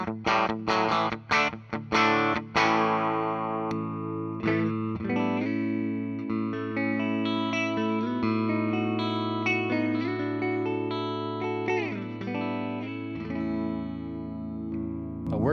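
A 2025 Gibson Les Paul Standard P90 Ebony electric guitar plays through heavy distortion. A few chugged chords open it, then it moves into sustained, saturated lead notes and bends over a held low drone, loud and close.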